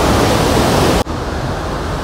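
Waterfall roaring in New Athos, Abkhazia, a dense continuous rush of falling water, loud and close, with a brief dip in level midway before the steady roar resumes.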